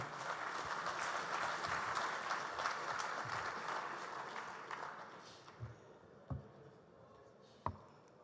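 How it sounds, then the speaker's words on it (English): An audience claps after a speaker at a vehicle technology event, dense sustained applause that gradually thins out to a few scattered claps at the end. "big round of applause"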